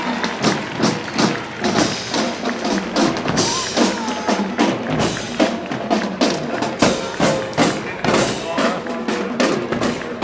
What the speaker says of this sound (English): Cannon High School marching band, ladies and gentlemen.